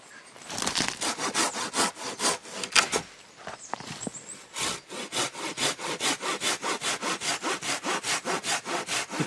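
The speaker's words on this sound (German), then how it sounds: "Deswegen beim Sägen immer nur locker nach vorne gehen." A Silky Gomboy folding hand saw rasps steadily through wood in quick, even back-and-forth strokes, close and loud, with a brief pause before the rhythm resumes.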